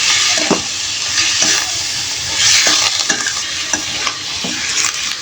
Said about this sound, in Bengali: পেঁয়াজের সাথে আর মশলাটার সাথে গোটা গোটা লং, এলাচ, তেজপাতা এর সাথে গোশতটা একটু আমি নেড়ে চেড়ে ভেজে নিব